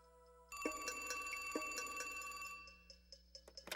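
An old telephone bell rings loudly in two long trilling bursts, then fades into softer ringing with a few sharp clicks at the end; no one speaks.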